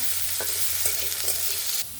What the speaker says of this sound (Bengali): আমার হালকা করে আলুগুলো ভাজা হয়ে গেছে